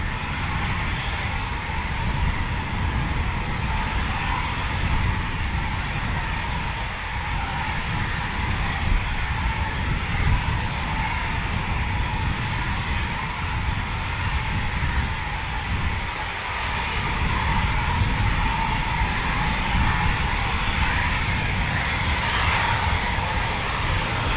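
A Eurofighter Typhoon FGR4 jet at an RAF station produces a loud, continuous engine roar that stays strong throughout, with no talking.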